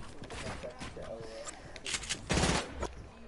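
Repeated gunfire from a video game played on PS4, bursts of shots scattered through the clip and mixed with a person talking over the action.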